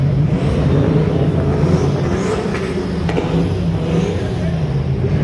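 Recorded drift-car engine and tyre noise blares over loudspeakers at the Automec 2023 car show in São Paulo, a continuous loud roar with crowd chatter and voices underneath.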